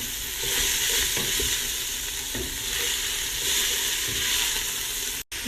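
Chopped celery and other vegetables sizzle steadily in a soup pot for split pea and ham soup, a constant close frying hiss with a few soft stirring knocks and a brief dropout near the end.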